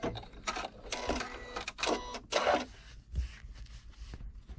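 A sewing machine stay stitches fabric pieces for a hexagon project, running in short fairly quiet bursts of rapid mechanical whirring and ticking with brief pauses between runs.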